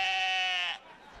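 Animated goat app bleating once when its screen is touched, giving a single loud, clear, sustained bleat that cuts off sharply, followed by faint room tone.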